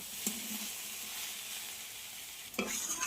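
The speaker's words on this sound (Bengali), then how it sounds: "আমি কিন্তু খুব ভালোভাবে কষিয়ে নেব, যত সুন্দর করে কষাবেন ততই টেস্ট আসবে" Watermelon rind curry with turmeric sautéing in a pan, a soft continuous sizzle heard close but quietly, broken by two brief clinks of a spoon or spatula.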